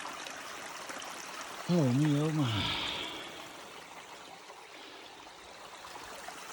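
A trickling stream serves as a water source on a hiking trail, giving a steady, soft, close babble throughout, while someone briefly speaks over it in a sing-song voice.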